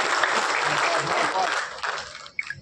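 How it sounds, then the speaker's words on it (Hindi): Audience at a pigeon club prize ceremony breaking into loud, dense applause that fills most of the moment before thinning out near the end. "पहले सभी के लिए एक जोर से हाथ ताली दीजिए"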